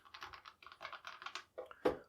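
Quiet clatter of typing on a computer keyboard at a desk, a run of quick keystrokes broken by a short pause, then a few more taps ending in a firmer key press.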